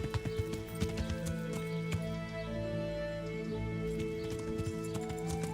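Horse hooves clip-clop in the Kingdom Come: Deliverance video game: a steady, close walking rhythm of hoofbeats over a continuous tonal game soundtrack.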